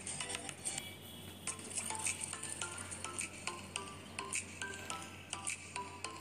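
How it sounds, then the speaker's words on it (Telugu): Ginger garlic paste with turmeric frying in a pan, a quiet steady sizzle with scattered clinks and scrapes of a spoon against the pan. "ఇదంతా కూడా చక్కగా ఫ్రై అయ్యే వరకు కూడా అల్లంలో పచ్చి వాసన పోయే వరకు ఫ్రై చేసుకోండి"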